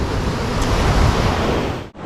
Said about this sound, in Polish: Woda się podnosi. Sztormy na morzu!